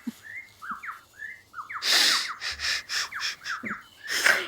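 A lyrebird mimics a string of sounds outdoors: rising whistled chirps and calls mixed with bursts of harsh, noisy crackle like mechanical or chainsaw-type noise, close and fairly loud, with no talking.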